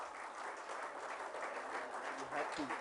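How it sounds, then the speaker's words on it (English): An audience at a stage event gives a sustained round of applause, dense steady clapping from a crowd that swells slightly toward the end, with no speech over it. "could we please welcome him with a huge round of applause"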